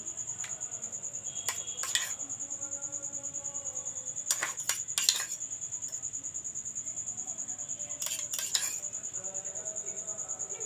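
A spoon works chicken pieces into sour yogurt in a bowl, giving scattered bursts of metallic clinks and scrapes against the bowl over a steady, high, insect-like chirring drone.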